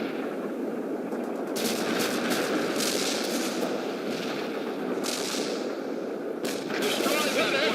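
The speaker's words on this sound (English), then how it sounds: "Laying down a barrage, sir." Continuous artillery barrage in the World in Conflict video game, dense overlapping booms and rapid gunfire crackle with bursts of louder impacts throughout.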